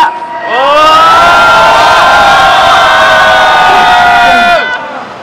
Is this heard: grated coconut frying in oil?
no